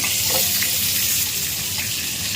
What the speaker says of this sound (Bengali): আমি বেগুন টেগুন একটু ভেজে দিচ্ছি